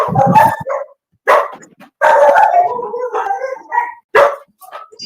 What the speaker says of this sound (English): They're barking at Sunder